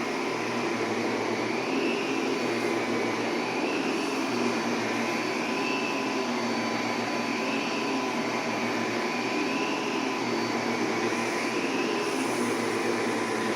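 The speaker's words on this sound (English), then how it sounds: "So when I go and hook up the power nozzle and run it, and I'll also run the machine on high" A Miele Callisto vacuum cleaner running on high with its power nozzle attached, a loud continuous whine and rush with a slowly wavering tone, heard alone throughout.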